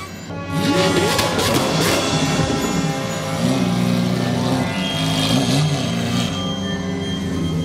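A Lamborghini with an expensive aftermarket exhaust roars loudly up close, its engine holding a sustained, throaty drone with revs rising and falling throughout and no voices over it.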